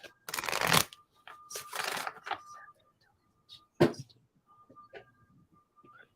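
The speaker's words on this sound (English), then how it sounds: "One last little shuffle." Several bursts of tarot or Lenormand cards being riffled and shuffled up close, separated by pauses, with a single sharp tap partway through.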